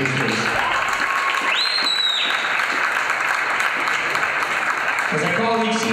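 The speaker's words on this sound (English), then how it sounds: "So a warm round of applause for this group of seniors, please." Crowd applause in a school gym honoring senior boys basketball players, sustained clapping under a public-address voice with a whistle-like tone and voices rising near the end.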